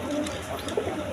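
Pigeons at a Bangladeshi pigeon farm give soft, low cooing calls in short repeated bursts against a steady farmyard background, with no talking.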